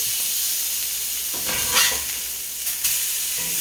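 Salmon fillet just flipped in hot grease in a pan, sizzling loudly and steadily with a bright hiss, a couple of brief swells as it settles, no talk.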